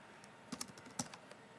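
Quiet keyboard typing while entering a name into an iPhone app, with a few soft, uneven key taps close together.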